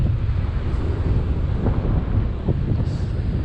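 Strong outdoor wind roars across the microphone of a flying DJI Ryze Tello drone, a loud, constant rushing buffet with no talk.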